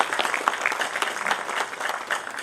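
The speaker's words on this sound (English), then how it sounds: "That's a great round of applause." A seated audience at a Farthest Field book event by Raghu Karnad applauds a newly welcomed guest, giving a steady, dense round of clapping that sounds close and fairly loud from start to finish.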